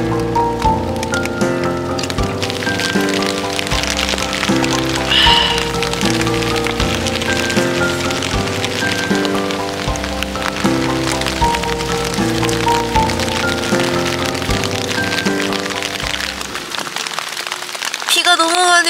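Heavy rain drums densely and continuously on a solo camping tent, loud and close throughout, dropping away just before the end.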